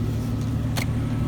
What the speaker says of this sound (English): My phone does pick up small engine noise or valve train noise